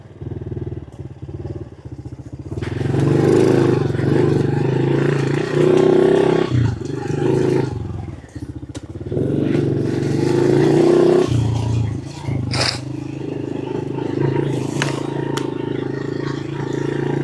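Motorcycle engine ridden close up with a sensitive throttle in first gear, still cold and warming up, shifted early: a loud growling drone rises and falls with throttle blips and brief gear-change dips, wind noise on top.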